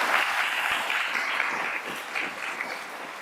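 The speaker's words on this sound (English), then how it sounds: "Let's give them a round of applause." Audience applause at a university convocation orientation ceremony, a steady dense wash of many hands clapping that carries through the whole stretch, loud and even, fading slightly toward the end.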